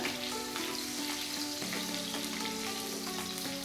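Bitter gourd slices frying in oil for pavakkai fry, a loud continuous sizzle with scraping and clinking as a spoon stirs the pan.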